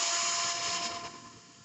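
A power drill with an old 7/64 bit bores a pilot hole for a surface-mounted mail slot, a steady high whine close by that winds down near the end.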